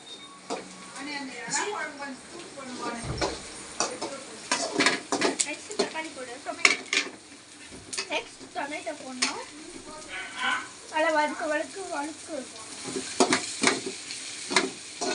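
Onions sautéing in a pan, with a steady sizzle and repeated scrapes and clinks of a spoon stirring against the metal. Someone talks over the cooking throughout.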